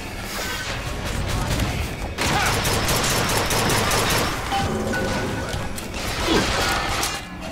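Gunfire in the video game BioShock Infinite, rapid mechanical bursts and crashing impacts rolling on loudly and densely throughout, with faint voices under the noise.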